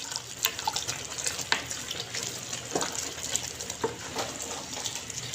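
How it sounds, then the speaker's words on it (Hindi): Beef keema and vegetable mixture bubbling in a pot while being stirred, a steady watery simmer with scattered clinks and scrapes of a spoon, moderately loud and close, with no talking. "अब इसे उबाल आना शुरू हो गया है, इसको हम अच्छे से मिक्स कर लेंगे।"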